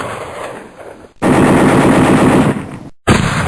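Automatic gunfire bursts in a GI Joe cartoon battle, a loud sustained rattling volley lasting over a second, cut off abruptly, then resuming briefly after a short silence, with quieter action ambience before.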